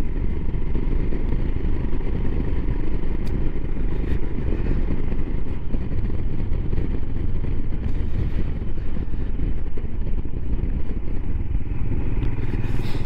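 A Royal Enfield Himalayan motorcycle rides along with a steady, loud engine drone and heavy wind buffeting across the microphone, unbroken throughout and with no voices.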